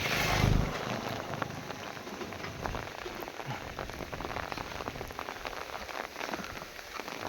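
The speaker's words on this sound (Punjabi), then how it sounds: "ਫੁੱਲ ਮੀਂਹ ਪੈ ਰਿਹਾ" Heavy rain pours steadily over open farmland in rural Punjab, a dense, even roar of drops on surfaces that holds for the whole stretch, with a brief heavier thump near the start.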